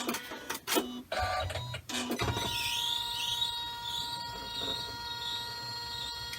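An embroidery machine stitching at 600 stitches per minute on a quilted basket, a steady mechanical hum with repeating whirring sweeps, preceded by a few sharp clunks at the start; close and moderately loud, no talking.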